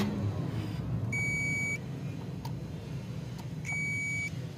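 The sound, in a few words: digital multimeter continuity test beeping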